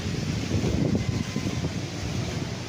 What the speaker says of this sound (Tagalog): malakas ang hangin mga kaprops